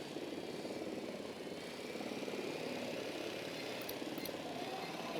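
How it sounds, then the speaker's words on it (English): A helicopter in Ghost Recon Wildlands drones steadily as it approaches, a continuous rumbling rotor and engine wash that grows slightly louder with no speech over it. "Chopper inbound."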